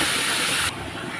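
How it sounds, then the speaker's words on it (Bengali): Ground spices, turmeric, coriander, cumin and Kashmiri chilli, hit hot oil for a tangra fish curry, giving a loud bright sizzle that suddenly drops to a quieter hiss. "আমি মশলাটা দিয়ে দিলাম"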